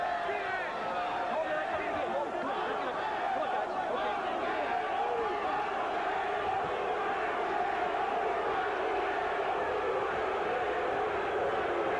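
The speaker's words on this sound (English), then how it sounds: "People aren't booing, they're chanting Louie, trying to get Louie, inspire him to let some punches go." A boxing arena crowd chants in unison for fighter Louie Espinoza, a steady, dense roar of many voices sustained for the whole stretch without pause.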